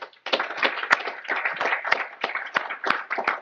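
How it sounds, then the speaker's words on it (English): Audience applause for evening presenters, brisk close clapping from a modest group with distinct individual hand claps standing out in a lively, even patter. "I just want to give a great round of applause to our presenters for tonight."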